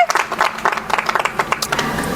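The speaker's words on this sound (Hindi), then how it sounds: "तालियां हो जाए सर के लिए" Studio audience at a political debate on Vikaspuri constituency issues gives a short round of clapping for a social worker guest, crisp bursts close by and fading quickly.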